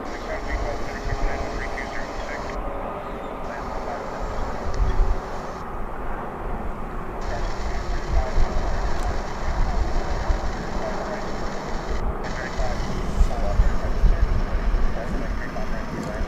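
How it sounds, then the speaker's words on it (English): An American Airlines airliner, Flight 2473 to Las Vegas, rolls down a DFW runway for takeoff as a broad, continuous roar that builds slowly. A voice talks over it. "now we have an American Airlines Flight 2473 to Las Vegas. Rolling down the runway."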